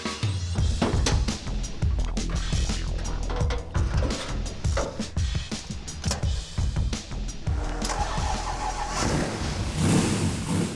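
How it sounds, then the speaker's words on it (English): A loud 750 HP custom Camaro SS engine roars steadily at first fire-up, with rumbling low-end throbs and revving surges, close and continuous throughout. "First fire up in the car. Yeah? I'm happy with it. Got good oil pressure. Thing is loud."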